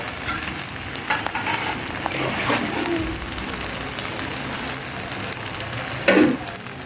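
Green chillies dropped into hot oil in a pan for a Bengali chicken curry sizzle and crackle steadily, with occasional stirring scrapes and a brief louder spit of frying near the end.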